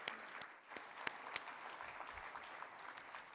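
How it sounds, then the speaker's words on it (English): An audience at an insurance industry event applauds for a sponsor and students, a fairly faint patter of clapping with a few sharp, distinct claps standing out near the microphone. "Let's give a round of applause for our future talent sponsor and students."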